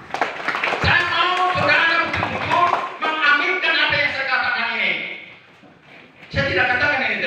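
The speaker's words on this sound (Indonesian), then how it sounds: "Tepuk tangan dulu buat Tuhan." Congregation clapping hands together during a church service, a steady run of claps mixed with singing or loud voices that dips briefly near the end before surging back.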